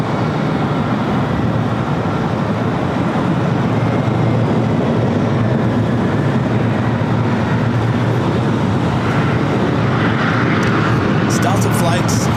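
An airliner departs LAX from runway 24 left bound for Phoenix, its engine roar sustained and loud across the whole stretch with broadband rumble, while a voice talks over it.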